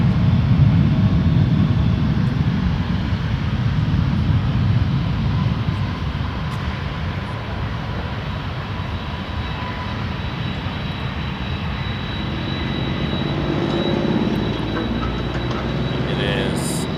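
An airplane rolls for takeoff on runway 23 at Toronto Pearson with a loud, steady, low engine roar that fills the whole stretch, heard from a distance.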